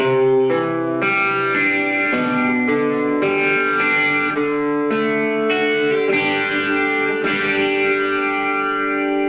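Slow electric guitar chords ring out one after another with distortion and a chorus-like shimmer, each strum sustaining before the next.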